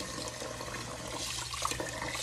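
Water runs steadily from a tap while something is washed, a soft continuous splashing flow at low level with no voices.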